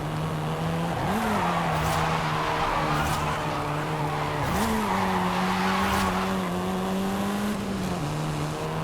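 A Volkswagen Golf R, seventh generation, drives in the Forza Horizon 5 racing game, its engine droning steadily and loud with brief tire skids and squeals as it corners.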